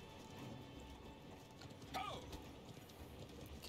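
Horse hooves clip-clopping in the medieval siege battle game Conqueror's Blade, a faint steady patter under background battle noise, with a short sharp cry near the middle and a voice talking.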